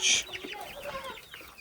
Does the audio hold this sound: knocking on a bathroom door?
no